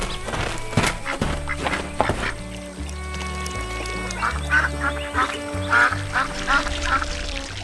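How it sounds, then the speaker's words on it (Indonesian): A white goose in an animated cartoon splashes and hops in water, with honking, quacking calls repeated throughout over bouncy cartoon music and sound effects. "Tiba-tiba, seekor angsa putih muncul dari belakang, melompat-lompat di air,"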